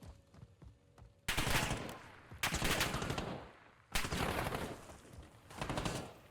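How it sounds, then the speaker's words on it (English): An enemy player in Warzone fires on the listener in three loud bursts of rapid automatic gunfire, each rattling off for about a second before fading, with quieter game sounds in the gaps. "he's shooting me"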